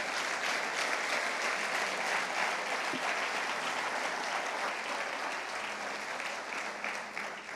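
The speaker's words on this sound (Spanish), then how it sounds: "dale fuerte el aplauso al Señor" Steady applause from a church congregation fills the room, sustained and fairly loud throughout, praising the Lord after a sermon on the tithe.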